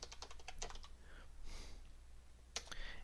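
Someone types commands on a computer keyboard at a Windows Server 2012 administrator console: irregular, fairly quiet keystroke clicks in short bursts, with no talking.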